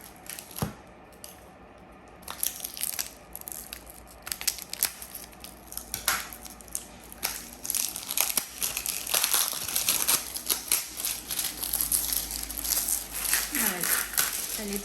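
Plastic wrapping crinkles and rustles as a rolled diamond painting canvas is unwrapped, with irregular close crackles and crumples that grow busier toward the end, while a voice speaks briefly.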